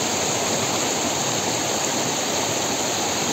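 A fast-flowing river current at a fishing spot produces a loud, dense, unbroken rush of water, close and steady throughout with no voices or other sounds on top.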